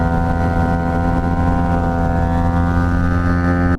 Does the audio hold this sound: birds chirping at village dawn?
no